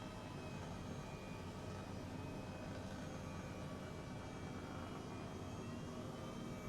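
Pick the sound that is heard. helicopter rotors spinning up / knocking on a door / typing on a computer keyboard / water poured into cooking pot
helicopter rotors spinning up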